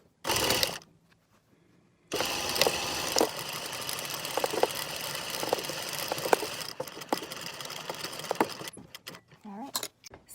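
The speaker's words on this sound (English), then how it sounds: "we're sewing our shoulder seams now" A sewing machine stitches the shoulder seams of a gown made from an old fitted sheet, running in a steady mechanical whir for several seconds after a short burst and a pause, with small clicks throughout.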